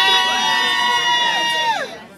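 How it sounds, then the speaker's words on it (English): A crowd at a traditional marriage ceremony cheers loudly and close by, its voices merging into a sustained, wavering call that rises and then drops away after about two seconds. "Are you guys ready to cheer them on?"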